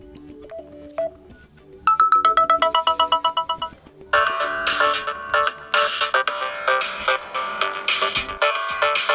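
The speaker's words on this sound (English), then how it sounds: "You can select one of these pre-installed ringtones" Several pre-installed ringtones on a Samsung Galaxy A01 Core phone play in turn: a short melodic chime, a rapid repeating beep pattern, then a louder bright musical ring tune.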